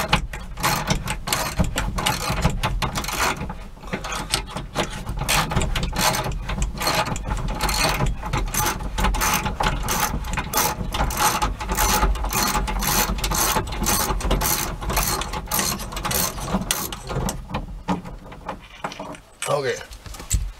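Ratchet wrench backing out a 10 mm bolt from the tailgate of a 2004 Toyota 4Runner, fast continuous close clicking of the pawl for about twenty seconds, with talk mixed in.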